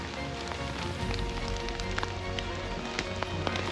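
Rain patters on a broken tarp at a wild camp without a tent, a dense steady spatter with scattered louder drips and taps, close by.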